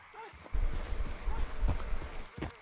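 A horse gallops in Red Dead Redemption 2 with quick, rhythmic hoofbeat thuds close by, a brief whinny early on, and someone talking over parts of it.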